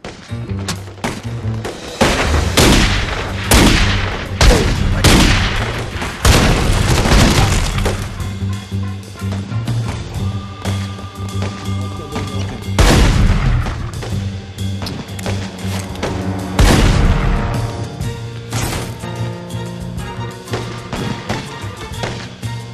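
Gunfire from the Godfather 2 video game at the Almeida compound, with loud sharp cracking shots and bursts that come and go over a background of game music.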